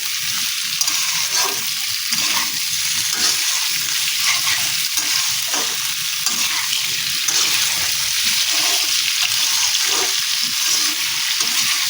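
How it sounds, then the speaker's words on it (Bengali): Chopped potatoes fry in hot oil with a constant loud crackling sizzle while a spoon stirs them in quick repeated strokes, close up and steady throughout, with no talking. "আলুটাকে তেলের মধ্যে ভালো করে মিশিয়ে নিচ্ছি"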